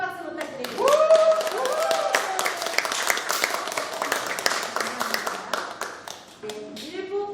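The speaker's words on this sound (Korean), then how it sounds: "우리 수고해주신 생명의 어린이와 김명희님께 다시 한번 큰 박수 부탁드립니다." Audience at a youth book concert in Haenam clapping loudly and continuously for several seconds, with an announcer's voice rising over the applause.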